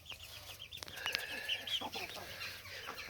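Chickens cluck and chirp in short overlapping calls, with peeping chicks among them, against a steady farmyard background.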